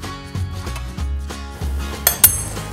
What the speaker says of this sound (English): now we're just gonna flip the meatballs over and brown the other side